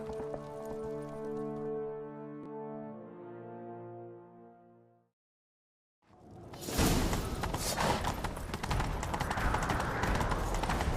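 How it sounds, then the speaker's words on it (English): In The Witcher 3: Wild Hunt, after a low droning tone fades to silence, rapid hoofbeats of a galloping horse pound steadily and loudly, with rushing noise over them. "Grab a horse, we'll chase him down."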